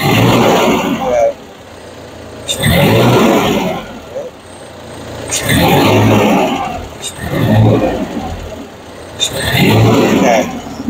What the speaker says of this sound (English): under a snap, you would hear kind of like a fish bite, misfire.